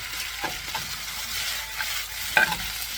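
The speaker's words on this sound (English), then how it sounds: "now you can hear the sizzle sound" Szechuan chicken and vegetables sizzle in a hot wok during stir-frying, a soft steady hiss with faint scraping stirs and a brief brighter clink near the end, with no voices.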